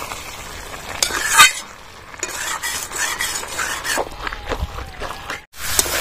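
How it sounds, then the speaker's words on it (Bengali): Boiled young jackfruit is stir-fried in a pan, with a spoon scraping and clinking against the metal over a low sizzle in close, uneven strokes and no talking. "আবারও ভালোভাবে 2-3 মিনিট কষিয়ে নেব।"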